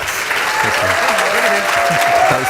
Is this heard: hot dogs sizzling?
no